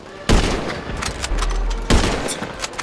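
Two heavy, booming gunshots in a GTA 5 roleplay session, loud and close, about a second and a half apart, with a rumbling tail and faint noise between them.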